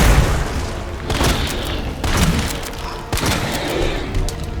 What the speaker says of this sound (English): Shotgun's actually doing surprising damage.